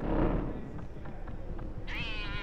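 A cat meows once, clearly, in the Harry Potter and the Philosopher's Stone video game, rising over steady game background ambience.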